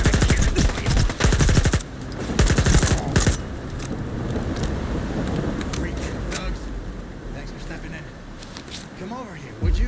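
Bursts of rapid automatic gunfire and single shots ring out in the S.T.A.L.K.E.R. 2 game, clustered in the first few seconds and again near the end, over a rumbling background with voices talking at times.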